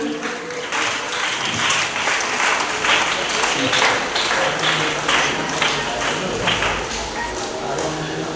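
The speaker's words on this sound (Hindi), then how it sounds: "ताली जोरदार होनी चाहिए।" Loud, continuous audience clapping fills a school summer camp closing ceremony, dense and sustained with individual claps standing out close by throughout.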